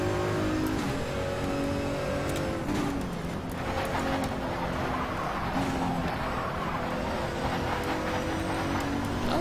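Race car engine in the Race 07 game at Interlagos droning steadily at low speed, a constant close hum with small shifts in pitch and no voices.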